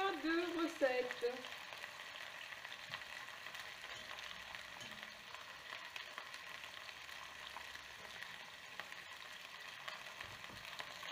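Meat browning in a pan makes a quiet, steady frying sizzle, with a brief voice-like murmur at the start and then an even crackle alone.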